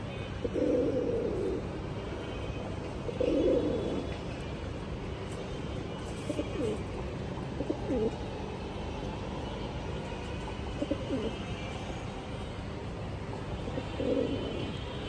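Laldom and kaldom high-flyer pigeons coo softly in a few low, throaty bursts spread over a steady background hum, fairly distant.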